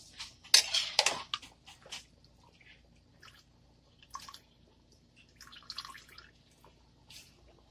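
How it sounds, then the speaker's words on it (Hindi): Beef yakhni broth comes to a boil in a cooking pot, giving off scattered wet bubbling pops and drips in irregular clusters, fairly quiet and close, with no talking. "ये देखें हमारी यखनी में खोल आ रहा है।"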